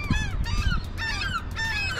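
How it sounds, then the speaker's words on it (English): Seagulls at a harbor wharf give loud, harsh calls in quick bursts, several squawks overlapping close by above a low rumbling background. "These seagulls are pretty loud."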